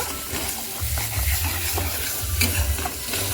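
Turmeric, chili paste and spices sautéing in a pan for a vegetarian atta paneer (dhoka) dish: a steady close sizzle broken by repeated low scraping stirs, with no talking.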